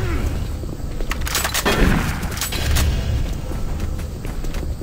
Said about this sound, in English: He's gonna shoot into the darkness.